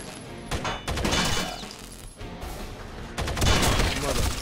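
Rapid bursts of gunfire in the video game Rainbow Six Vegas 2, loud and dense, with repeated volleys and heavy impacts filling most of the stretch, with no talk over it.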